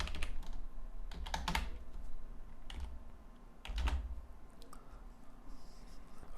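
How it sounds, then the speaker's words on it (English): Someone types on a computer keyboard nearby while coding a website, producing bursts of quick clattering keystrokes separated by short pauses, with a few louder thumps of the space bar. "but let's type it in, it's no big deal"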